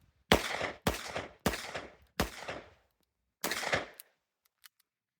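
Pistol shots fired at a center mass target on a range at 3 to 5 yards: five loud, sharp reports, four in a quick steady rhythm, then a pause before the fifth, with a faint clink after.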